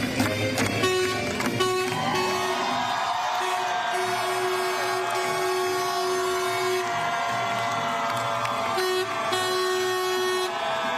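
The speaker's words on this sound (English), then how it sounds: "Take a listen right here as that bus rolls in here on campus." A bus rolling onto a college campus sounds its horn in long sustained toots, loud and near, broken by brief gaps, over steady traffic and crowd noise during a celebration.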